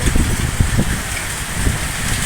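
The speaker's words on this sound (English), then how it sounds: "New downpour in Turin began shortly after 6 p.m." A heavy downpour pounds steadily during a storm in Turin, a dense, loud wash of rain noise with low, rumbling gusts underneath and no talking.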